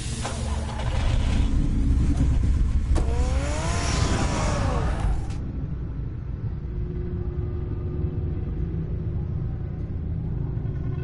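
A car in the Batman Telltale Series game revs and accelerates with a rising engine whine, then settles into a low, steady driving rumble that continues to the end.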